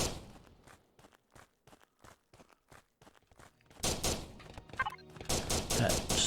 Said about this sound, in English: I apologize if you can hear the fireworks going on outside my house.